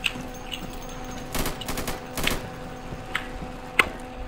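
Gunfire in the tactical shooter Insurgency: a few distant, scattered bursts of rifle shots crackle over a low steady background hum, with one sharper crack near the end.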